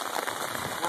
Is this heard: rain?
yes